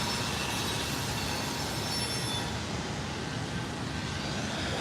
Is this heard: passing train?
yes